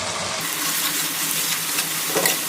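Masala of mustard paste, tomato and slit chilli fries in a pan for a small fish curry, giving a loud, continuous close sizzle with scraping stirs.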